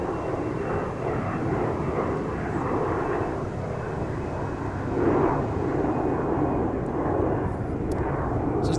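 A Delta airliner taking off from Minneapolis–St. Paul airport gives a steady, broad jet engine roar that holds at moderate distance, swelling slightly midway, with no voices over it.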